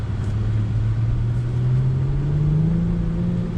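Twin-turbocharged engine of a 2019 Infiniti Q50 Red Sport 400 heard from inside the cabin, a steady low droning rumble rising slowly in pitch as it accelerates under paddle shifts, moderately loud with no talking.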